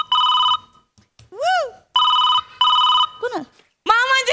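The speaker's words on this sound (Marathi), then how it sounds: "कोण मामांजीचा फोन आला" A telephone rings in a Marathi TV comedy sketch, with three loud electronic ringtone bursts that alternate with swooping vocal chirps in a quiet room.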